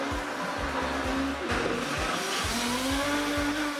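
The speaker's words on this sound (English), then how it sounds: "And then I just blended it up." A Vitamix blender whirring loudly through celery and a little water, its motor holding a steady high-powered roar with shifting pitch as the contents churn, with no voices.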